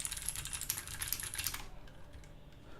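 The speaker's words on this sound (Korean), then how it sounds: "그냥 이 키보드의 스위치 자체의 소리만 나는 정도입니다." Keystrokes on a Lunepoker U60 custom mechanical keyboard with a thick, heavy bottom case, a quick run of crisp clicks up close that stops partway, leaving a quiet tail.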